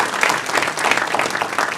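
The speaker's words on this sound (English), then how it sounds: "Round of applause." Brief, brisk applause from the audience at a Virginia Marine Resources Commission meeting, dense and steady throughout.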